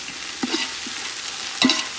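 Ginger garlic paste fries in a pan while being stirred quickly, a steady sizzle broken by a few sharp scrapes and clinks of the spoon against the pan.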